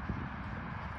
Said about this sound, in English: As I say, we're just back cantering them at the moment.